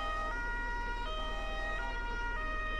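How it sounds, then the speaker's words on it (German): An airport fire truck siren in Flughafen Feuerwehr Simulator 2013 wails steadily, its electronic tone stepping up and down in a regular repeating cycle over a constant low engine hum, loud and close with no voices. "Jetzt geht die Sirene auch"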